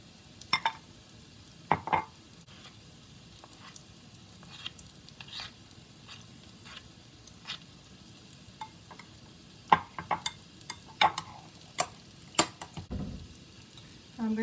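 Bacon and pod-bean batter frying in a pan on high heat, a low steady sizzle under scattered sharp clicks and scrapes of a utensil against the pan, fairly close.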